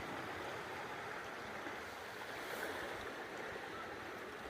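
Floodwater rushing down a farm stream after heavy runoff, a steady dense roar of churning water filling the scene without pause.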